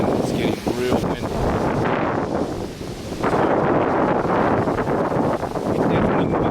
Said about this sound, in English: I can already feel the cold front coming in, and it's getting real windy.